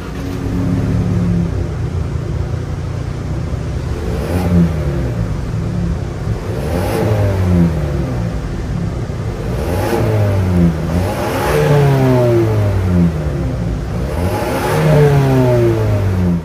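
A 2024 Ford Ranger XLT's 2.3-liter EcoBoost turbocharged four-cylinder idles, then is revved repeatedly in several rising and falling bursts, loud and close, with a brief murmur of agreement.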